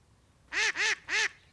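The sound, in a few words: duck quacking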